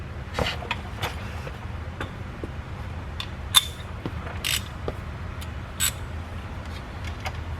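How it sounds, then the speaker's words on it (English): A ratchet tightens 17 mm bolts on the rear wheel hub assembly of a 2002–2006 Nissan Altima, giving scattered, sharp clicks and metallic ticks close by over low background noise. "we're going to go ahead and get the tool and tighten it down"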